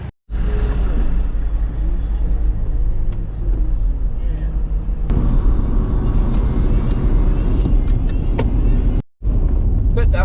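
Off-road vehicles, including Land Rovers, Nissan Patrols, Prados and a truck, drive in a dusty convoy toward a river crossing; a loud continuous engine and road rumble heard from inside a Suzuki, with a brief cut near the end.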